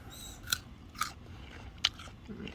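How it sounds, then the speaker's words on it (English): Teeth bite crisply into a crunchy green mango, giving three sharp separate crunches spaced out over quiet background noise, close to the listener. "We like it crunchy, and that's the whole idea behind the green mangoes."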